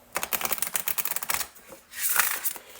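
Large tarot cards shuffled in the hands, a dense run of quick papery riffling clicks for about a second and a half, then a short pause and a softer smoother slide of cards.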